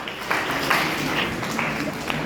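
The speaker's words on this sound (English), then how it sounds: "Give him a big round of applause." Audience at an institution in Bengaluru claps in a short, steady burst of applause, moderately loud and filling the room.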